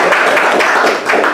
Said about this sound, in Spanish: Un aplauso para Charlie.